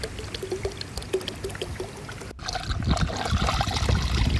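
Liquid algicide pouring down into a swimming pool skimmer, a steady trickling splash that grows louder and fuller partway through, with a few soft knocks early on.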